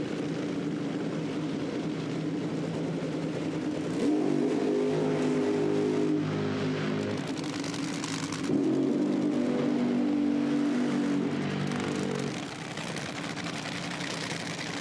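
Nitro funny car drag racing engines roar loudly and steadily throughout, with two surging passes building in intensity before easing off near the end.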